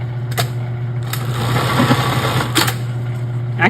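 An industrial sewing machine stitches a bartack on a pair of jeans, a fast mechanical whirring burst under a steady motor hum, framed by sharp clicks at the start and end.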